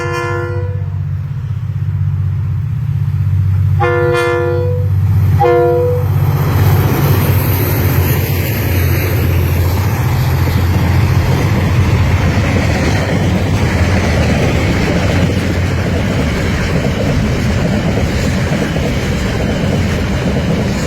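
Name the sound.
KiwiRail freight train 221, double DFB locomotives, passing with horn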